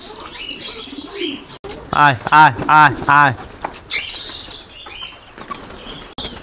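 Pigeons coo in a run of four loud, close calls with some wing flapping, sharing a yard with chickens, while a person talks and calls to the birds before and after.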